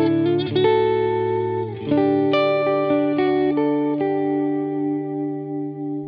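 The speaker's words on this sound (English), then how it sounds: "I do have a good amount of pre-delay on that so that the reverb doesn't cover up my sound" An electric guitar on a worship pedalboard rings out chords and single notes soaked in a soft reverb wash with generous pre-delay, each note sustaining and slowly fading, with no talking.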